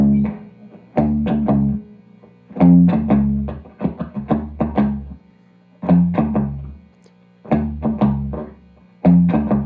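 A guitar riff from a song repeats several times, loud and close, with short plucked note clusters in a recurring rhythmic phrase separated by brief gaps.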